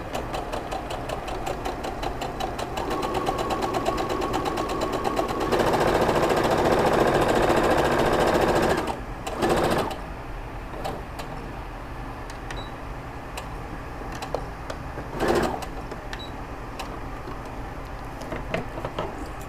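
A sewing machine stitching puffy sleeve fabric with matching thread, a steady, fast mechanical rattle that runs continuously and speeds up in the middle before settling back to a quieter hum, with a couple of brief handling knocks and no voices.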